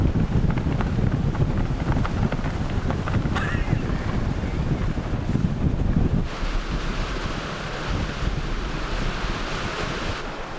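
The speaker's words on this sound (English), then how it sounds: "it's so windy that it's like the same sensation as sticking your head out the window when you're going down the highway" Strong wind buffets the microphone at the foggy Cliffs of Moher, a loud continuous roar and rumble that eases slightly in the second half, with no talk.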